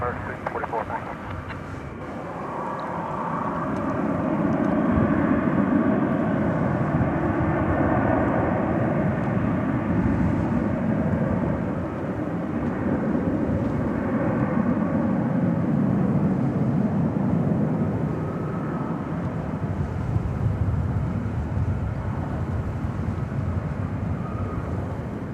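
An airliner takes off from a DFW Airport runway at night, a deep distant engine roar swelling and holding steady while someone talks over it.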